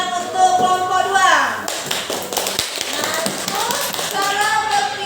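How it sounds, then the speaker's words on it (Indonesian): A class of schoolchildren claps for a group, with a patter of hands and tapping under excited young voices talking and calling out nearby. "Silakan tepuk tangan untuk kelompok 2."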